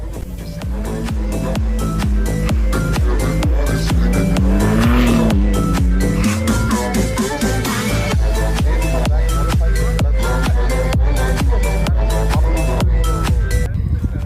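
Rally cars race and drift on a dirt track at a qualifying round, with loud continuous engine roar and repeated tire squeals and skids running throughout, close and dense.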